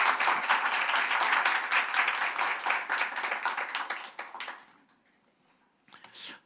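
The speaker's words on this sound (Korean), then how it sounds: "우리 목사님 나오실 때 큰 박수로 환영하겠습니다." Church congregation at a Korean revival service claps to welcome the pastor, a brisk, close burst of applause that fades out after about five seconds, followed by a short faint sound.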